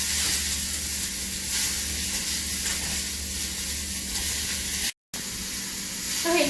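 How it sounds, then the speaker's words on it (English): Garlic and onions frying in a wok for a chicken teriyaki stir fry, a loud steady sizzle and hiss that holds throughout and cuts out for a moment near the end. "so while it's frying"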